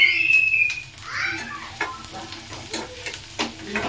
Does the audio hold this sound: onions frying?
yes